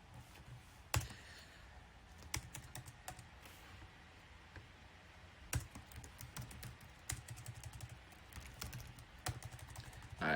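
Java code being typed on a computer keyboard, with a steady run of close, crisp key clicks at an uneven pace and occasional louder keystrokes, alone without talk.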